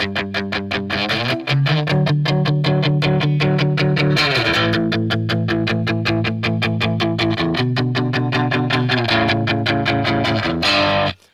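Heavily distorted electric guitar through a Kemper Profiler amp profile, punk rock tone, chugging in fast, steady strummed chords, loud and close, shifting pitch a few times before cutting off.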